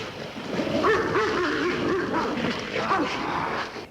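A shepherd army dog barks and yips in a quick series of sharp, close barks with a few whimpering notes, fairly loud and with no talking over it.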